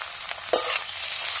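Chopped onions frying in a pan alongside eggs for a cabbage dish, a steady close sizzle with a brief scrape of stirring midway and no talking.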